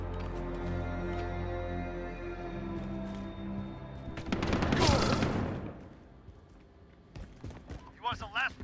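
Gunfire erupts in Call of Duty: Modern Warfare during a 2v2 match, a loud burst of shots rising out of a droning game soundscape and fading, then sharp clattering hits, with a voice speaking over it.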